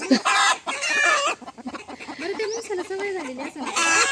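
A rooster crows loudly and close by, its long rising-falling call mixed with clucking chickens, while a person speaks over the farmyard.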